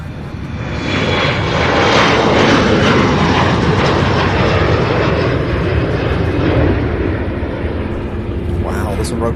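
A fixed-wing airplane roars loudly and close as it rotates on takeoff at Louisville International Airport, with a sustained rumbling engine sound under talk.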